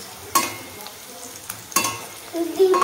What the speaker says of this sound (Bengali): চাউমিন ভাজছি।